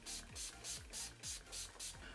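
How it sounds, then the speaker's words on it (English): Urban Decay All Nighter setting spray comes out in about seven quick, rhythmic hissing pumps, close and evenly spaced, each bursting briefly with a soft mechanical click underneath. "I'm going to be using the Urban Decay All Nighter setting spray"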